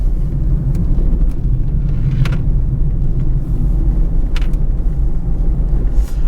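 A 2015 Citroën C3 1.6 HDi 75 BlueHDi diesel is driven through town, heard from inside as a loud, steady low engine and road rumble with a few faint ticks and clicks.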